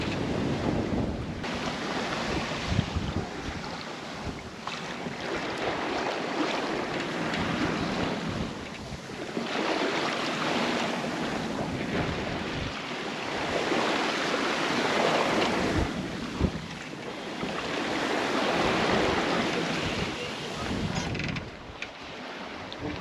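Sea waves washing against a small sailboat under sail on the open ocean with seas on the beam, rising and falling surges of rushing water mixed with wind noise on the microphone, no talking.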